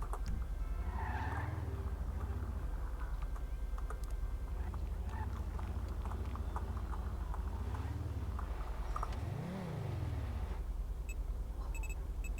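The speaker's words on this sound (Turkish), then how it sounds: "Ya çok çapkın sürüyoruz arabayı." A car driven hard in GTA 5 roars and skids, engine revs sweeping up and down in repeated arcs with tyre squeals and bumps, loud and continuous without talk.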